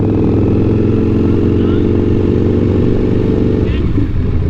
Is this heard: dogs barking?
no